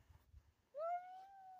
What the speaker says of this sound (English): these two cats really don't get along